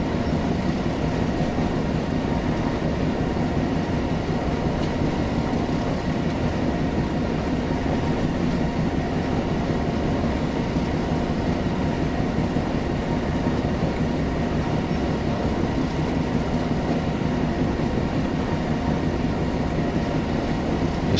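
Steady, continuous rumble of a train running on the West Somerset Railway in Train Sim World, with low wheel and engine roar and a faint rail hum throughout, no voices.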